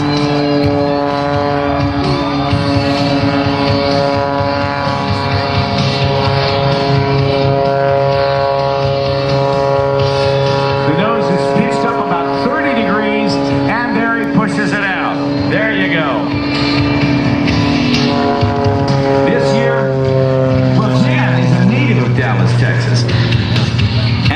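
An aerobatic airplane flies slowly nose-up at the 2009 Blue Angels Homecoming Airshow, its propeller engine a loud, steady harmonic drone that runs the whole time while an announcer talks over it.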